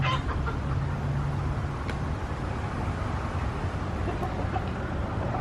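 Backyard homestead chickens, hens and a rooster, cluck steadily while being fed, a dense murmur of fowl sounds filling the scene at close range with no talking.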